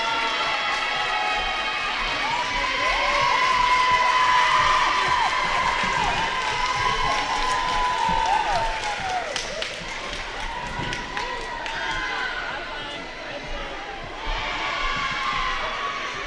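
A large crowd cheering at a school sports tiebreaker, with sustained shouts and whoops from many voices, loud and steady at first and then easing slightly, while a voice carries over the noise.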